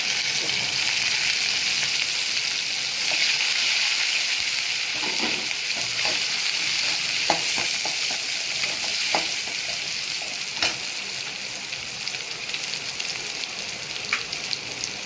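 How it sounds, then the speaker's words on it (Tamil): Small shallots frying in hot oil with mustard seeds and cumin for a drumstick and potato curry, a steady close sizzle with occasional sharp pops and crackles, no talking. "வெங்காயம் சின்ன வெங்காயம் 250 கிராம் போட்டுக்கலாம்."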